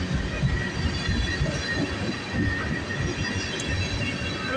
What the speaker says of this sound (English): This train is finally picking up speed.